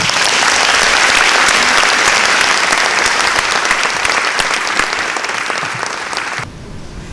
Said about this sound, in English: would everyone in the audience please give her a round of applause?